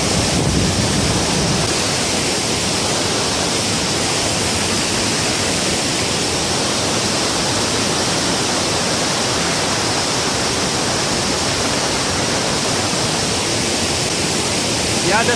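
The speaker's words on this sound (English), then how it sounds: "You see here the waterfall" Waterfall at Devloli dam near Rasayani, Panvel, roaring as a continuous broadband rush of falling water with some wind buffeting the microphone, steady and loud throughout.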